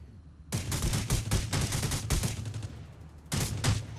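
Gunfire in the Death Race game mode: dense bursts of rapid automatic shots for about two seconds, a short lull, then another burst, loud and close, with no talking.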